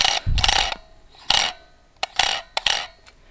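Several short whirring mechanical bursts, close up, separated by brief pauses, like a small motor driving a lens in and out of a Canon PowerShot A50 compact camera.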